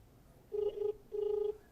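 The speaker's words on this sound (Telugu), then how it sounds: "ఫోన్ రింగ్ అవుతుంది." Two bursts of a telephone ringing tone on an outgoing call, a short buzzing pulse followed by a pause and a second longer pulse, heard clearly through the line with no talk.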